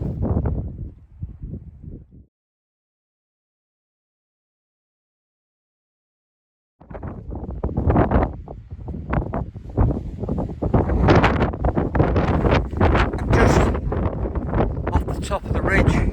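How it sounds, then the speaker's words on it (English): Strong gusts buffet the microphone on the Moel Siabod ridge in Snowdonia, a loud roaring rumble that cuts out completely for several seconds before returning steady and harsh. "the wind's picking up"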